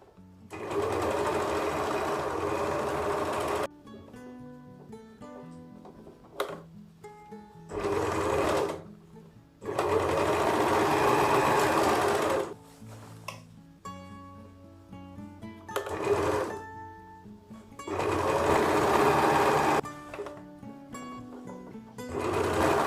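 Sewing machine stitching the seams of a pair of pants, several long steady runs of rapid mechanical whirring separated by short pauses and small clicks, close and fairly loud, with no talking.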